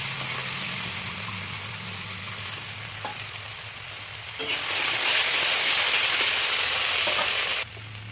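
Soaked rice goes into hot oil (fish-frying oil) with whole garam masala, bay leaf and dried red chilli, and a loud, close sizzle swells midway as it hits the pan, steady hissing with stirring noises, then drops back near the end.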